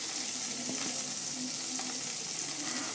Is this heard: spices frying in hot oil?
yes